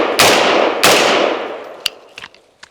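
A Brownells BRN-15 11.5-inch AR-15 rifle fired outdoors, two loud sharp shots about half a second apart with long ringing decay, followed by fainter metallic clinks of brass hitting the ground.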